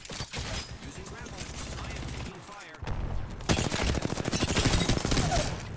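Rapid gunfire and automatic bursts in a shooter video game, loud and dense, with a short lull partway before heavier sustained firing resumes.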